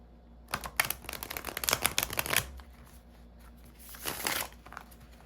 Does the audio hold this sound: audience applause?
no